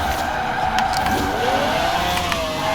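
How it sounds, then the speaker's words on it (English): A 1995 BMW 850CSI tuned to about 1437 hp with rear-wheel drive, drifting in Forza Horizon 4: a steady, loud engine drone in fifth gear with a rising pitch and faint tire squeal throughout, no talk. "We're in 5th gear right now with this 1400 horsepower beast."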